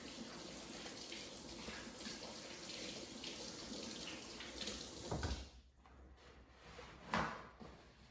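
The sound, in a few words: washing hands under running tap water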